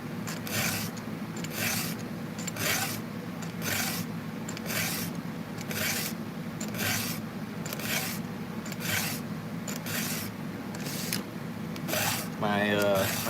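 A hand file rasps down the rakers, or depth gauges, on a chainsaw chain in a steady rhythm of about a dozen short, close scraping strokes, each separated by a brief pause, over a low constant hum.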